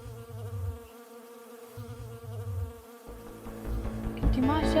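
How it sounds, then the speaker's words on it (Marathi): Flies buzzing in short bursts of droning whine that cut in and out, joined near the end by a louder, busier buzz close by. "किती माश्या आहेत"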